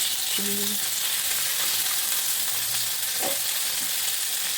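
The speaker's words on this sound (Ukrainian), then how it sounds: "Накриваємо кришкою і смажимо ще 4 хвилини" Fish cakes sizzle and crackle steadily in a hot pan, a constant frying hiss with a few faint clinks.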